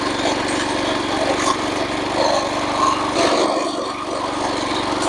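A Stihl 60 motor tiller churns through hard soil with a steady, droning engine roar and rough grinding texture, continuous and fairly close.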